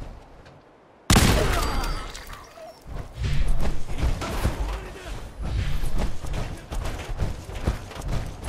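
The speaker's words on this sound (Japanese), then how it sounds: "グレネードだ！" Grenade blast in Fallout 4 bursts in loudly after a second of silence, followed by a dense, sustained roar of gunfire and crashing combat noise, with voices shouting amid the chaos.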